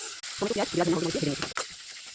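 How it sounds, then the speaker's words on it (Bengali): Fish coated in turmeric, salt and chili frying in hot oil in a wok, giving a steady close sizzle with a voice humming or talking over the middle part. "কড়াইতে তেল গরম হয়ে গেছে, হলদি লবণ মরিচ মেখে মাছটা ভেজে নেব।"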